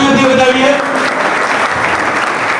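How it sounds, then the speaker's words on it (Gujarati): At a Prajapati community gathering in Bhavnagar, the audience bursts into loud, close applause for an honoured student, a voice briefly heard at the start before the dense clapping fills the rest. "આપણે તો જોરદાર તાળીઓથી વધાવીએ"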